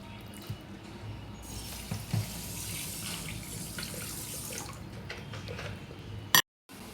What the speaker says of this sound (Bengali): এই যে 1 কাপ জল দিচ্ছি।